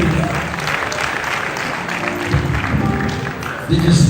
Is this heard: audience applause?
yes